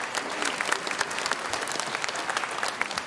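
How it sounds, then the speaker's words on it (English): Audience clapping at a prize-giving held in a large venue, a steady crowd applause of many sharp, separate claps, moderately close and with no one talking. "Give them a round of applause."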